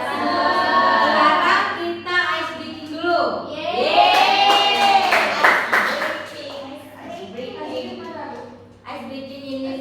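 Classroom clapping game, tepuk pagi sore malam, with a teacher calling out and children answering and clapping in short bursts amid lively talk and cheering.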